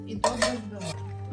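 A whisk beats a yogurt and melted butter batter for an apple pie in a bowl, with a few close metallic clinks and scraping strokes against the bowl over a low steady hum.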